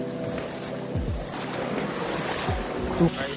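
Floodwater from fields surges across a road in heavy rain, a broad continuous rushing wash with a few low passing rumbles.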